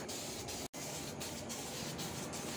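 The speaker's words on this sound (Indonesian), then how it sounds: "Kita semprot sebanyak 2 lapis tipis-tipis bolak-balik dengan ayunan tangan cepat." A spray gun hisses steadily and loudly up close while coating Yamaha NMAX motorcycle body panels, a continuous airy spray with one brief gap and faint rhythmic pulses from quick back-and-forth passes.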